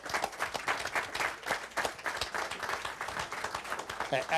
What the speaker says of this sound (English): owe Jeanette and her team a great, round of applause